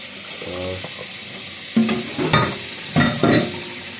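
Water being stirred into rice in a hot, sizzling pan, with a steady hiss broken by a few louder scraping stirs toward the end.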